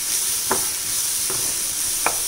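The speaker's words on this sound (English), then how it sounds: "I'll fry this vegetables for 2 minutes." Vegetables for masala pasta hiss and sizzle steadily in a hot pan, close up, with three soft scrapes from stirring.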